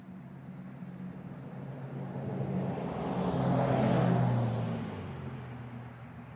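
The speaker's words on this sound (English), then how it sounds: "Here comes another vehicle." A single road vehicle approaches and passes by outdoors, its broadband engine and tyre noise swelling to a peak around the middle and then fading away, with no talking.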